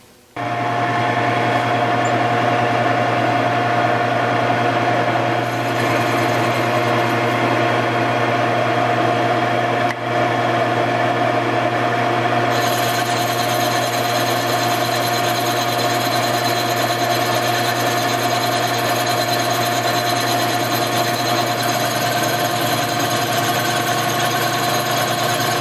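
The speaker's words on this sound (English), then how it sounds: "move over and machine the second surface" Milling machine resurfacing the face of a Porsche air-cooled cylinder head, a steady loud mechanical hum and whine running continuously, with slight shifts in tone partway through.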